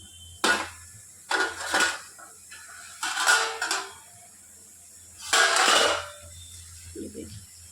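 Lid lifted off a pan of stuffed bitter gourds cooking on the stove, giving a few sharp metallic clanks and scrapes in separate bursts with quiet pauses between them.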